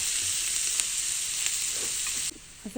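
Onions sizzle and fry in a pan for Marathi-style mixed dal khichadi, a steady close hiss with faint stirring clicks, dropping away abruptly near the end.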